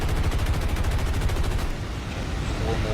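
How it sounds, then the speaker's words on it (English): Rapid machine-gun bursts from a bomber's tail gunner in the War Thunder air combat game, a dense loud rattle of repeated shots for most of the stretch, then easing into rumbling engine and explosion noise. "One of my tail gunners is opening up."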